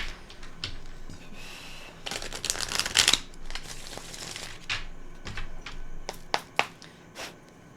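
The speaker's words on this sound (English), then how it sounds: "One more shuffle." Tarot cards being shuffled by hand, bursts of crisp riffling and flapping, one long dense flurry followed by several short sharp slaps and snaps, close and clear with no talking.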